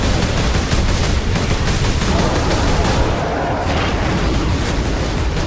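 Loud, continuous gunfire and explosions in Warhammer 40,000: Space Marine, with rapid bursts of shots and booming blasts layered densely throughout.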